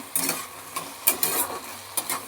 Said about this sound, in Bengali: এবার আমি কাটি কুচিটাকে একটু নেড়ে নেব